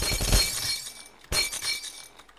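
Glass bottles smash in the Happy Wheels video game, two distinct crashes with bright shattering and tinkling debris, the first loudest and the second a moment later, with no voices.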